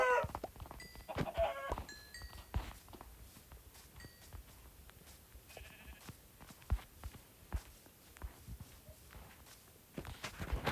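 Minecraft farm animals, including chickens and sheep-like bleats, cluck and call in short scattered bursts over quiet in-game footsteps and clicks, moderately near with no talking.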